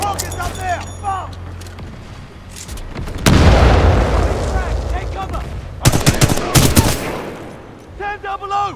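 Titanfall campaign combat on Xbox One X: heavy bomb blasts and bursts of gunfire crash in close and loud, with a big explosion near the middle and repeated blasts later, while a voice shouts over the battle.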